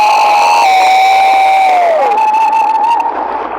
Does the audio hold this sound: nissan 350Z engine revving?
no